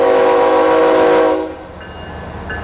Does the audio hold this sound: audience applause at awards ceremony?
no